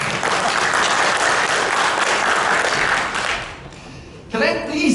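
A conference audience claps for Kavya in a dense, sustained burst that fades out, followed briefly by a voice speaking.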